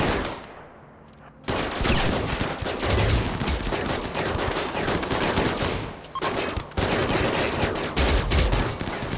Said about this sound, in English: So you guys can just like shoot down that tunnel.